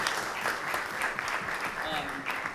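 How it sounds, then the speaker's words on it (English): An audience applauds at a guest speaker event, a steady wash of clapping at moderate level with faint voices mixed in underneath. "so give them a round of applause"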